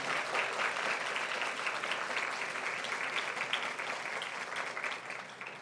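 An audience at a university inauguration ceremony applauds student performers with sustained, dense clapping that stays strong for several seconds before tapering slightly, and no voices are heard.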